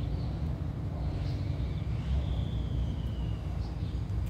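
A container handler loader's engine idles at a freight train container yard, a low, steady rumbling drone close by, with a faint bird chirp above it.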